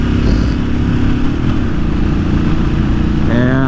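A motorcycle engine drones loud and steady while passing another rider on the road, with heavy wind rumble throughout and a rising whine near the end.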